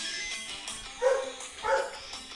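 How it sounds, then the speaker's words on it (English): A pet dog barks twice in the room at moderate volume, two separate woofs about half a second apart behind faint game sounds. "And my dog bark."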